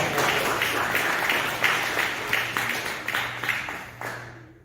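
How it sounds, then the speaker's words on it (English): An audience at a mental health speech applauds, loud, close clapping with distinct sharp claps standing out from the crowd, continuing for several seconds before fading out at the end. "please give yourselves a round of applause"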